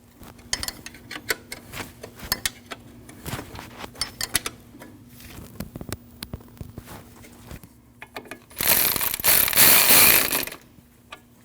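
A ratchet tightening a 10mm bolt on the AC cover of a 2003-2008 Subaru Forester 2.5L H4, with repeated quick clicking pawl strokes in uneven runs, then a louder burst of harsh clatter near the end, close by.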